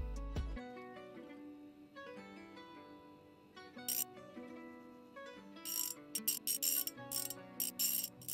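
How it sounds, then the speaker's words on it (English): A socket wrench ratchets on a spark plug in the Gas Station Simulator video game, a run of quick dry clicking bursts in short groups near the end, over a soft background music bed. "It's a socket wrench that doesn't want a socket."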